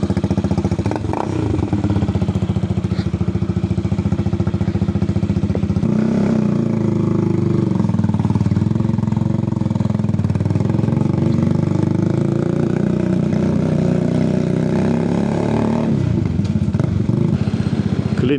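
A Benelli Motobi Evo 200 cruiser motorcycle rumbles steadily while being ridden, its mid-pitched engine loud and close with some mechanical clatter, revs shifting and easing over the ride.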